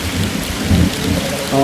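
Heavy rain pours down steadily with deep rumbling thunder, loud and close, with no talk over it.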